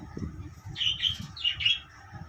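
Pigeons at a pigeon farm giving a few short cooing, chirping calls in two clear bursts, close and fairly soft against a low background murmur.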